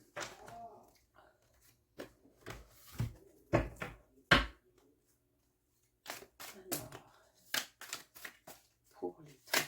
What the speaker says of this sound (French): Je vais maintenant vous tirer quelques cartes conseils pour votre année 2025.